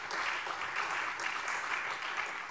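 Applause fills a parliamentary plenary chamber, a dense, continuous patter of many hands clapping at an even level throughout, with no break or voice rising above it.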